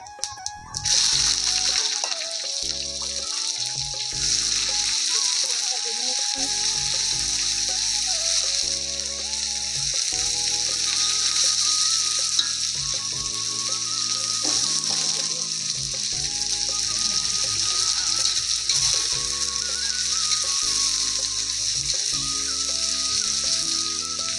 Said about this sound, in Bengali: পেঁয়াজটা লাল লাল করে একটু ভেজে নেব